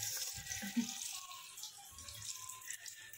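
Potato rolls fry in hot oil with a faint, steady hiss and sizzle. Soft, muffled voices sit in the background.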